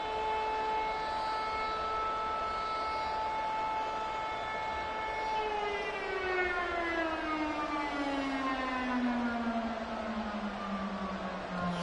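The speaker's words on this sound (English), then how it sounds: "Fucking siren." A long, wailing siren in the video game Madden 24 holds a steady tone, then slowly falls in pitch, sounding somewhat distant and continuous throughout.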